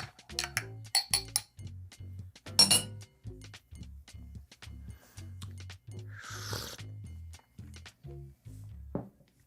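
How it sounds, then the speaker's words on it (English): A spoon stirs an espresso shot in a small glass, tinkling quickly and repeatedly against the sides at close range over a low steady hum. "Give it a little stir."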